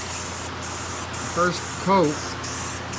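Orange Rust-Oleum spray paint hisses steadily from a can in a continuous airy wash through the whole stretch, while someone speaks briefly over it.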